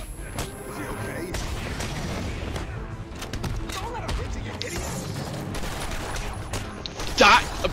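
Gunfire in the Batman Arkham Asylum video game, a dense, continuous clatter of shots and impacts mixed with game effects, steady and loud throughout with a sharp burst near the end.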